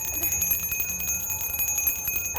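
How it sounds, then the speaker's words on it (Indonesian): A bell rings out continuously with bright, sustained metallic tones and rapid repeated strikes, loud and close, with no voices over it. "Suara apaan sih ini? Suara lonceng."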